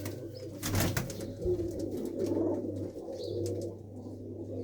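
Pigeons in a loft coo in low, soft rolling murmurs over a steady background hum, with a brief rustle or flutter of wings early on, fairly close and continuous.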